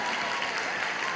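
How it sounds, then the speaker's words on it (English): An audience at a youth camp session claps steadily, a dense, even wash of applause that fills the whole moment without a break. "You don't have to clap for that."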